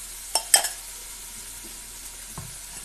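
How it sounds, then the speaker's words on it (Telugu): Masala of red chili powder and ginger garlic paste fries in a pan for an egg chicken curry. A few quick stirring scrapes come near the start, then a soft, quiet sizzle continues with one more faint stir. "చూడండి, మసాలా అంతా మనకు వేగడానికి దగ్గర పడింది."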